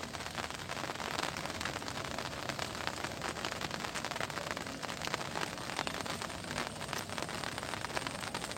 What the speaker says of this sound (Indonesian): sekarang hujan lagi teman-teman